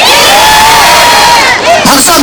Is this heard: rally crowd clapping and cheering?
yes